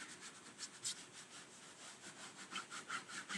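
Scraping across the back of transfer tape stuck to a sign-making mat, a dry rhythmic rubbing with repeated strokes, close and moderately quiet.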